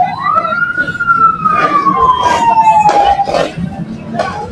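A fire truck siren rises and slowly falls in one long wail at a burning power-line cable on New Year's, loud and near, with street noise and people talking underneath.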